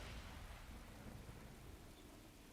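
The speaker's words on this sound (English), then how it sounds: "there was a sound of the sky ripping apart in the blinding flash of the light" Rolling thunder rumbles through a storm in The Hundred Line game, a broad roaring wash of noise with a rain-like hiss that fades slightly toward the end; fairly faint and without voices.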